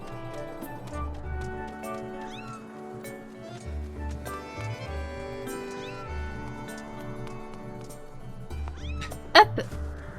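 A cat meows several times in The Legend of Zelda: Skyward Sword, set against steady in-game music that carries throughout, with a sharper, louder cry near the end.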